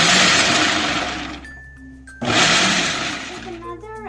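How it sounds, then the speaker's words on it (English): An electric chopper grinding almonds and pistachios, two loud whirring bursts separated by a brief pause, with a rattling clatter as the second burst winds down. "Let's chop the almonds and the pistas."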